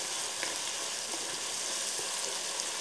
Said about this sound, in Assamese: পানীয়ে মিহলাই লোৱা জালুক আৰু লগত থকা গোটেইখিনি মছলা মই এতিয়া এইখিনি একেলগতে তেলতে দি দিলোঁ